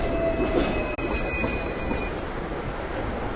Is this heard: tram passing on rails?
yes